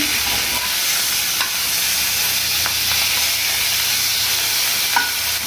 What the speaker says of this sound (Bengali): মাছটা একটু ভাজা হয়েছে